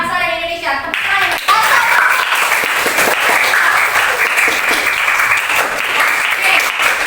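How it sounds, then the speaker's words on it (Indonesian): A group of students in a classroom breaks into loud, dense clapping right after a short spoken prompt, and the applause holds steady and close to the end with scattered voices mixed in. "Tepuk tangan untuk kita kelompok seni sastra bahasa dan Indonesia."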